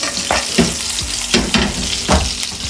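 Hot coconut oil sizzling and crackling in a pan, a steady fry with several sharp bursts of spatter and stirring, loud and close with no talk.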